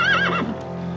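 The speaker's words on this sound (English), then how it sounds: "My father's horse, as promised." A mare gives a single short whinny, a bright wavering call that fades within half a second over a low background hum at night.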